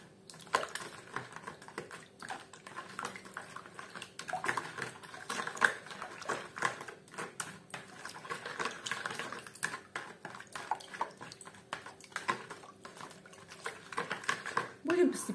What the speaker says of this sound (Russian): Дрожжи хорошенько размешиваем.